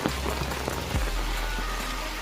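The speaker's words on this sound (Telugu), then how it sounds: "చాలా భారీగా అయితే వర్షం పడుతుంది ఫ్రెండ్స్" Heavy rain pours steadily in hilly country shrouded in thick fog, a dense unbroken hiss of drops beating on surfaces, close and fairly loud, with a low rumble underneath and no voices.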